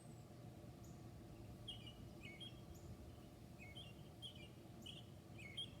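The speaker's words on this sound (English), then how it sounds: "there's some birds talking back" Small birds chirp in short, high tweets scattered across the scene outdoors, faint and somewhat distant over a quiet, steady low background hum.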